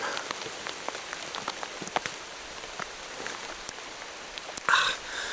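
Steady rain falls on moss and soft, rotting wood in a Temagami forest, a quiet even patter with scattered sharper drips and one brief louder splash near the end.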